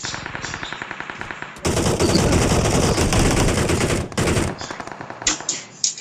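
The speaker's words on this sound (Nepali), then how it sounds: "खाली गोली मात्रै आउँछ" Rapid automatic gunfire in the battle royale game PUBG, long sustained loud bursts with sharp cracks and a brief pause, then scattered shots with a few crisp single reports near the end.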